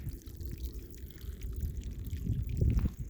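A small creek at Strawberry Cienega in the San Jacinto high country flows gently, giving a soft continuous trickle and burble that swells slightly toward the end, with no voices.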